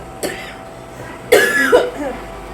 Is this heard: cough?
yes